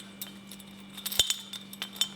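A plastic swing-top stopper on a bottle of Klosterbräu Bamberger Bockbier is tapped with a few light, faint clicks spaced irregularly, heard alone.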